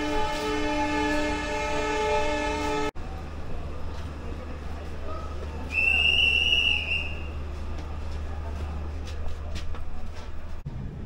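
The Shalimar–Puri weekly express sounds a steady, harmonic horn blast for about three seconds, then settles into a low running rumble with a brief higher tone partway through.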